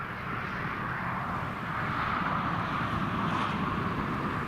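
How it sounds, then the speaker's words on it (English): A Learjet 45 business jet taxis down the runway at Newcastle Airport during a storm, its engines a steady, loud broadband roar that swells slightly toward the end, with no talk over it. "We've got a Learjet 45 just backtracking down the runway now"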